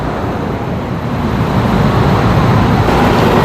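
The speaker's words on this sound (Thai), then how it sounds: "ฟังนี่รถไฟสายสีเหลืองมาแล้ว" A Bangkok Yellow Line train pulls in, a loud, steady low-pitched rumble that swells and grows heavier as it nears, with no voices.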